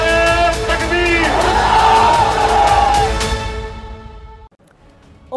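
A large crowd at an Indian political rally for Owaisi roars a slogan back in response, a loud mass of voices shouting together for about three seconds before fading to quiet.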